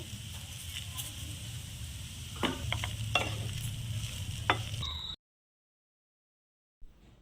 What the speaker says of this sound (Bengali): এবার দিয়ে দেবো ধুয়ে রাখা চিড়িগুলা। হালকা হাতে নেড়ে নেব।